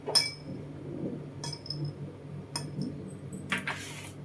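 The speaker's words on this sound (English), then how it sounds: "Some ice cubes." Ice cubes dropped into a glass for a cold asam boy lime drink, giving several sharp, bright clinks spaced about a second apart, close and clear over a low background hum.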